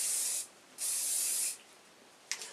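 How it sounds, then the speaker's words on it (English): Two long hissing aerosol sprays close by, separated by a short pause, followed by a brief final spurt. "just going to take some hairspray and again spray these top bits that you've just curled."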